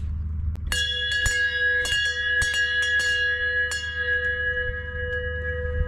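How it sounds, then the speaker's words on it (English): A hand bell rung in several quick bright strikes to call a ferry in the Netherlands, its metallic tone ringing on and fading between hits, over a low rumbling outdoor background. "it's not too rude actually to ring a bell, so I'm taking advantage of it"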